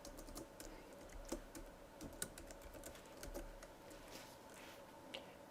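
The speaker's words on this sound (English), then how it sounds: "I need to type in my company name." Someone types on a computer keyboard while entering a company name in SketchUp for a shop sign: quiet, quick, irregular key taps close to the microphone, with a few sharper clacks among the soft presses.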